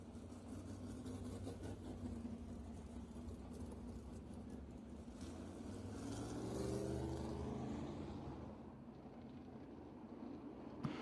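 A dirt track race car engine at BAPS Motor Speedway in York Haven, Pennsylvania idles and rumbles steadily as it rolls off for qualifying, swelling slightly midway then easing, a distant continuous drone.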